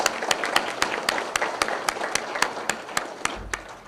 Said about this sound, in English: let's give our board of directors a round of applause